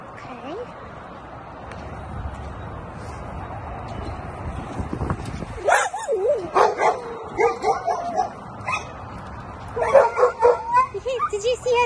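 A dog yips and whimpers in a series of short, high cries, with wind and handling noise beforehand and a person talking nearby.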